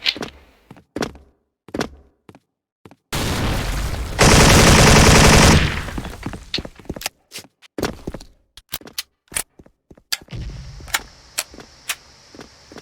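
G3A3 2nd-gen rifle fire in Special Force: sharp single shots and short bursts crack out at close range, then a sustained loud burst of automatic fire for a couple of seconds, followed by more scattered shots against faint game ambience.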